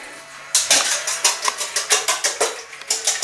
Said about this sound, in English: Whisk it up, just like you're adding milk, but you use the rum instead.